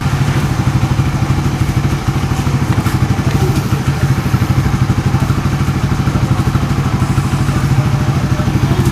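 A Suzuki Raider 150 motorcycle engine idles steadily and loudly up close, a continuous low throbbing rumble with a rapid mechanical patter and no voices.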